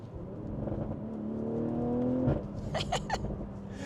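A BMW 840i (G14) B58 engine with aftermarket catback exhaust and downpipe revs up steadily to a peak, then drops off with sharp crackles and pops, heard close.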